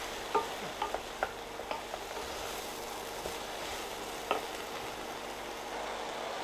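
Aubergine pieces fry in an oiled pan under a steady, fairly quiet sizzle, with a handful of sharp spoon scrapes and clinks near the start and one more later on as the pieces are stirred.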